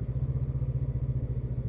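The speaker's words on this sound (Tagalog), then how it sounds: "Naririnig niyo ba yung makina? Tamis ng tunog, no?" A Voge 500DS motorcycle engine runs steadily during a city ride, a close, even throbbing pulse with a regular fast rhythm and no talk over it.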